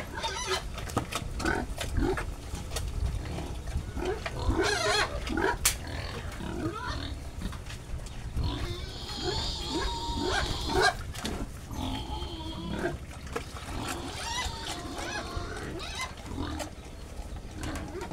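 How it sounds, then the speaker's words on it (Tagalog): A weaned piglet eats feed mixed with a bitter powder dewormer on a pig farm, giving close, continuous crunching and snuffling with frequent grunts and oinks. "Kahit mapait ang binigay nating pagkain dahil sa pamurga, ay malakas pa rin siyang kumain."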